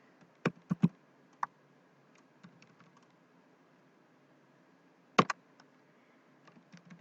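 Keys on a computer keyboard tap out an email address, a few sparse, faint clicks in small clusters separated by long quiet gaps.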